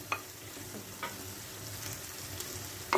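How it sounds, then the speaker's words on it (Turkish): Steady frying sizzle of sliced onions with chicken in a pan, with a few sharp scrapes and clinks of stirring, close by, no talking. "Şimdi soğanımızı ilave ediyoruz."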